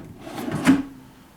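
A wooden drawer slides along newly installed drawer slides with a short smooth rolling rub that swells to a soft thump, close and alone, then fades.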